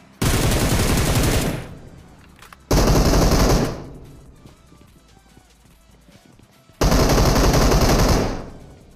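Bursts of automatic gunfire in Battlegrounds Mobile on a military base map, three loud sustained volleys each lasting over a second, separated by quieter stretches of faint ambient game sound.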